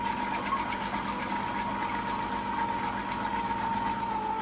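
A Compact Cook Elite kitchen robot heats while stirring at speed 3, giving a steady, moderate motor whir with a faint constant whine and no talking.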